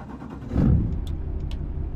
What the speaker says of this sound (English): Let's hear the sound from the V8